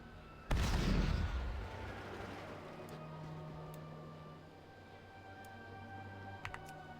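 A cannon fires in the video game World of Warcraft, one loud, close boom that fades slowly into a low rumble, followed by faint ambient game sounds and a couple of small clicks.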